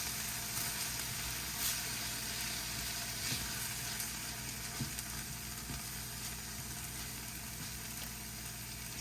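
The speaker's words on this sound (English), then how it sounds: "we're going to stir until it's combined and the rice" Rice stirred and warmed with a couple tablespoons of water in a hot pan, a steady low sizzle running throughout with faint scraping stir sounds, no voices.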